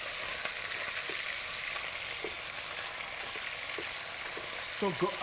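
Lamb and bone pieces fry in a pot with a steady, loud sizzle throughout, with occasional soft stirring clinks and a brief scrape near the end.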